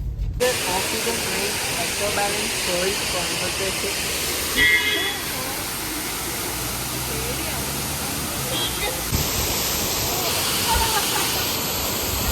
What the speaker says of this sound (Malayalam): ദിസ് ഈസ് വളഞ്ഞങ്ങാനം വെള്ളച്ചാട്ടം.